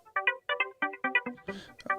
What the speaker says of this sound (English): What is that sound right there? Is that your phone?